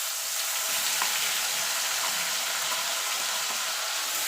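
Onion paste fries in hot oil, giving a dense, even sizzle that holds steady and loud throughout, with faint stirring touches underneath and no talking.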